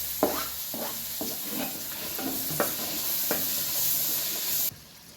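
Tomatoes sizzle and fry in hot tempering oil in a pan, a steady broadband hiss broken by repeated scraping stirs at a regular pace. The sizzling stays close and fairly loud and cuts off abruptly near the end, with no talking.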